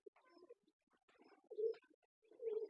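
Low, soft cooing calls from nearly sick caged doves, a couple of rounded phrases with short pauses between them, fairly close and quiet.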